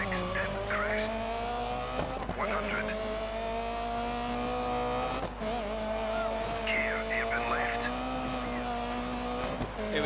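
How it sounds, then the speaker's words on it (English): A loud racing car engine revs and shifts pitch continuously in the Dirt 3 rally game, with tire squeal and skidding mixed in throughout. "Listen to that engine."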